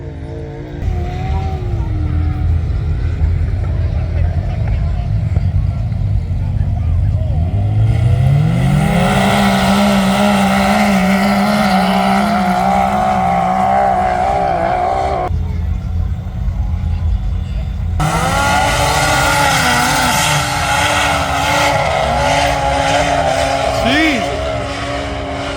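Drag race cars at a Labor Day weekend wheelie event for St Anthony's accelerate hard, engines roaring loudly with rising revs in two long powerful runs, while a person talks over the noise.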